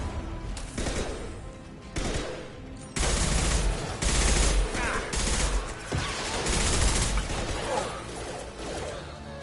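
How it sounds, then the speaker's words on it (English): Impact gun firing in the Mass Effect 2 video game: a dense, loud run of gunfire bursts with whooshes and mechanical clatter, continuous over the whole stretch, with no talking. "Firing an impact gun!"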